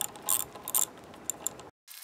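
Half-inch drive ratchet tightening a bolt on a DIY hammock swing stand: quick bursts of close, bright clicking in short strokes, then a brief silence before a last faint run of clicks, with no talking.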